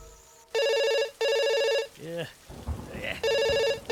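A telephone bell rings in loud, repeated electronic bursts indoors during a rainstorm, with a voice speaking between the rings.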